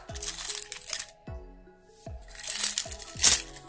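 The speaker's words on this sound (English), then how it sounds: "My keys." A handful of keys with an old keychain jingles and clinks in several bursts, close and fairly loud, with short pauses between the metallic rattles.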